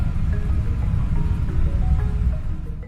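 A dull, steady wash of city background noise with a broad low rumble like distant traffic and faint scattered tonal hints, continuous and moderately loud for three seconds, with no voices.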